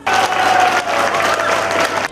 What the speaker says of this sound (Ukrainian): публіка виконавців зустрічає оваціями.